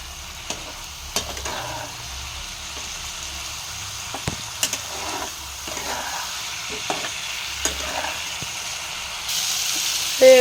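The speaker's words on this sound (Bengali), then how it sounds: "এবারে খুব ভালো করে মশলাগুলোর সাথে কষিয়ে নেব।" Spice paste for a bhetki fish curry with cauliflower and potato is stir-fried in a pan, with a soft continuous sizzle broken by scattered scraping strokes of a spoon, ending in a brief louder clatter.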